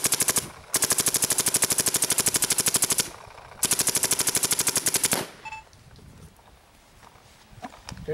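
Lurker gun firing rapid automatic bursts downrange across a field, two long loud strings of fast, evenly spaced shots close by, then quieter outdoor background.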